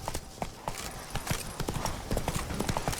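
A horse gallops in The Witcher 3: Blood and Wine, its rapid hoofbeats clopping in a quick, steady rhythm, close and fairly loud for three seconds.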